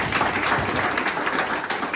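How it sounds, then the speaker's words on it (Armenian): Dense, steady applause fills a civil wedding ceremony at a registry office, many hands clapping close and loud without a break for the full two seconds. "Ծափերով սիրելի"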